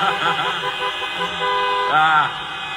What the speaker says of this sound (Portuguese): Dá uma buzinadinha.